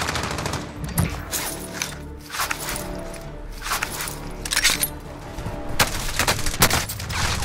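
Rapid bursts of automatic gunfire in a Call of Duty Warzone quads match, sharp cracks clustering in volleys close by with short gaps, layered over game background noise.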